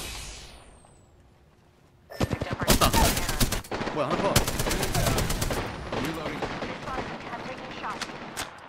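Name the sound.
gunfire in the video game Apex Legends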